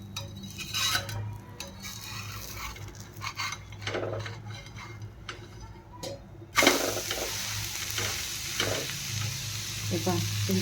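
An onion uttapam cooks on a hot pan with a quiet crackling sizzle and scattered spatula taps, then the sizzle jumps louder and fuller after the flip; close, steady, with no one speaking.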